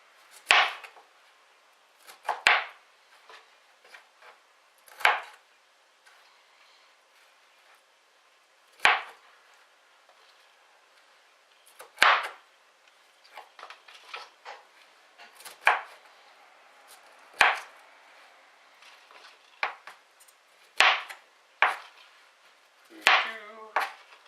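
Knife chopping broccoli into quarters on a board: about a dozen sharp, separate cuts come at irregular intervals, close and clear with quiet gaps between them.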